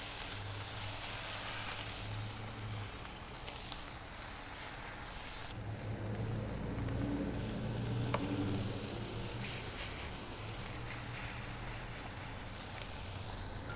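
Tortillas flipped onto cheese on a hot griddle for smoked brisket breakfast tacos, giving a steady, continuous sizzle and crackle close by, with a low hum underneath.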